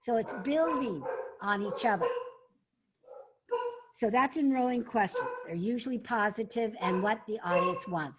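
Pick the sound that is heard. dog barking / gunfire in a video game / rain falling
dog barking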